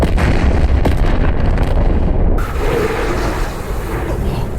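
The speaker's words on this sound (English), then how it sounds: "That delayed explosion was crazy here. I love it. The beam explosion." Anime battle sound effects from the Saga of Tanya the Evil movie: a delayed beam explosion bursts with heavy booming crackle, then breaks off sharply into a lower rumbling aftermath, loud and close, with no speech.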